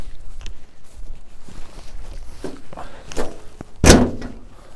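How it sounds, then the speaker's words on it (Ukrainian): Near the end the hood of a Lovol FT244H mini tractor comes down with one loud, close metallic thump. Before it come quieter handling knocks and shuffling sounds, with no speech. "Давайте закриваємо капот."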